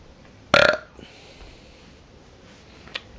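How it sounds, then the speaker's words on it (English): A single loud, close burp erupts sharply and fades quickly, followed by near silence and a faint soft click. "Don't know where that burp came from."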